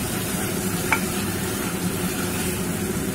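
Chicken curry pieces frying in oil in a pot, a steady close sizzle and bubbling with faint stirring, a single small clink partway through, no talking.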